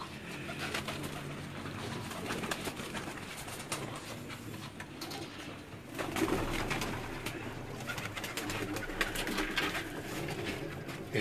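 Breeder pigeons coo inside their cages, soft overlapping throaty calls heard close and continuous over a low background hum, with no one speaking.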